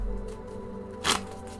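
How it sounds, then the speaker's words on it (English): A deck of tarot cards is shuffled once, a quick, crisp riffle of cards close to the microphone after a quiet pause, with nothing else happening. "Sorry for the shuffle."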